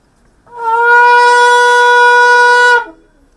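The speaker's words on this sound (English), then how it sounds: "please blow your shofar one time" A single loud, sustained shofar blast rings out for about two seconds, bright and brassy with a steady pitch, then cuts off into quiet.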